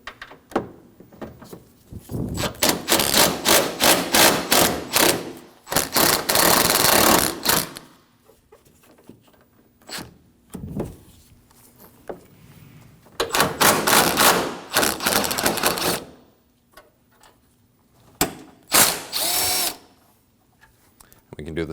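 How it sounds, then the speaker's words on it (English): A ratchet with a swivel socket loosens 10mm core support bolts on a 2016-2022 Honda, in loud rapid bursts of clicking broken by pauses, close up. "We'll remove the three 10mm bolts at either end of our core support using a 10mm."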